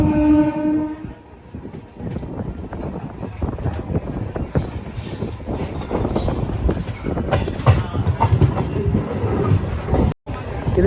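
A MEMU passenger train on the Nidadavole–Narsapur–Vijayawada line rolls along the rails, a steady close rumble with rattling wagon clatter throughout and a brief dropout near the end.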